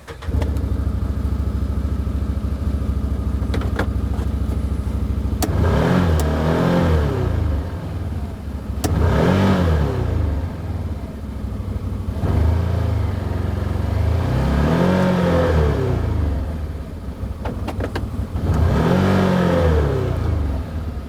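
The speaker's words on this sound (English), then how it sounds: "So you get a little bit of an understanding of what the 1000cc V-twin sounds like" A 2022 Can-Am Commander X MR UTV's 1000cc V-twin engine idles with a steady rumble, then revs up in repeated bursts of rising and falling roar, several pulls in a row, close and loud.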